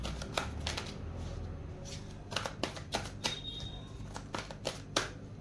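Cards from an angel guidance deck being shuffled and drawn, a quiet series of crisp riffling flicks and slaps in irregular bursts, close up with no voice.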